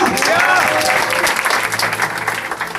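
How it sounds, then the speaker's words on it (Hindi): A church congregation claps at a preacher's urging during a Hindi sermon, a dense burst of many hands that fades slightly. A voice sounds briefly over the start. "ताली बजाओ"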